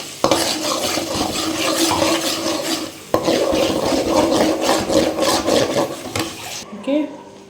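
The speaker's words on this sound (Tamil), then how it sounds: "இப்போ வந்து நம்ம வதக்கி விட்டுக்கலாம்." Onions sauté in a hot pan for tomato thokku, a continuous sizzle with steady scraping and stirring strokes for several seconds before the stirring stops.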